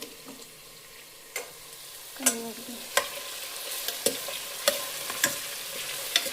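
Tomato gets stirred into a frying pan, with a soft continuous sizzle and spaced clinks and scrapes of a spoon against the pan at a steady pace, close and moderately quiet.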